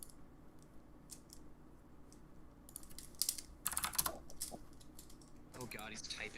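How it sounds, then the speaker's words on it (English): Someone types on a computer keyboard in quiet, irregular bursts of clicking keys, a faster flurry in the middle, with a faint voice briefly heard near the end. "oh god, he's typing"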